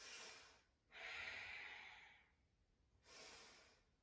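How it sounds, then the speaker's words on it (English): Deep Ujjayi breathing during a yoga flow: slow, close, airy breaths with a soft throaty rasp, one long inhale-like draw in the middle framed by shorter breaths before and after, with no voice over them. "deep Ujjayi breaths"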